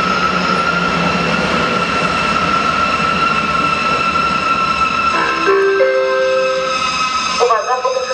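Train passing through a station in Łowicz, Poland without stopping, a steady loud rolling rumble throughout with a brief tonal squeal or signal near the end and some voices in the background.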